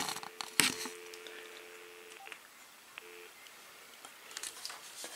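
Telephone tones from an AT&T SynJ SB67118 speakerphone: a steady tone runs for about two seconds, then a short repeat, with a few sharp clicks and faint keypad beeps over quiet line hiss.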